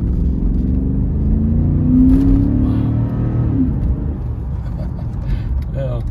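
A 1999 Cadillac Deville accelerates from the driver's seat, a low, smooth engine rumble and road drone rising gently, heard steadily throughout with a voice talking over it.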